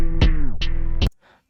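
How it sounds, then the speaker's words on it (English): A tape stop effect in FL Studio on a bright synth: short notes whose pitch sags downward and slows to a halt, three attacks, then a faint tail. "With this one I wanna add the tape stop effect."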